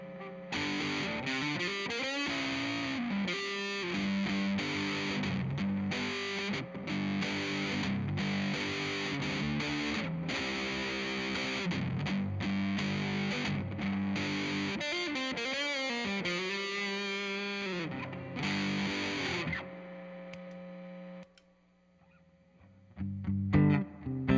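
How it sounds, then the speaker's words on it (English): A Gibson SG Special electric guitar played through a daisy cutter pedal gives loud, heavily distorted chords and riffs that ring continuously, then drop away toward the end into fainter handling noise. "Let's throw the daisy cutter on."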